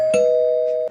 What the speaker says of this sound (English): Just ring the doorbell.